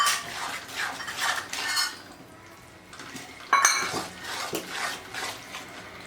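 Utensil scraping and clinking in a pan as an adadiya mixture of ghee and edible gum paste is stirred, with intermittent metallic scrapes and a sharper clink partway through, close and moderately loud.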